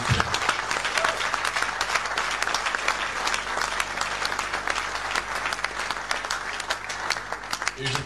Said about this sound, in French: Mais applaudissez fortement Paul Ella et tout son staff, s'il vous plaît.